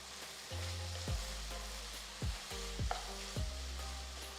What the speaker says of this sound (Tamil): நறுக்குன வெங்காயம் சேர்த்து நல்லா வதக்குங்க.